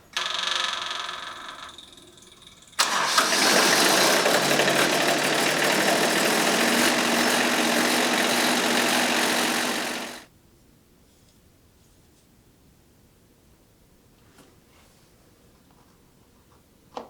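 A generator engine catches after a short crank and runs with a loud, steady roar for about seven seconds before cutting off, leaving near silence with a few faint knocks.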